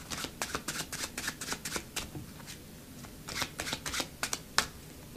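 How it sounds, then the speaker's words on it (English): Playing cards handled in an overhand false shuffle, quick soft riffling slaps in uneven bursts, close and quiet with no talk. "you can use the overhand method to retain this card at its position"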